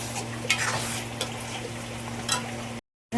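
Ground spice paste frying in a pan for a home Sunday meal, with steady sizzling and scraping stir strokes throughout, a few louder scrapes standing out, then an abrupt cut to silence near the end.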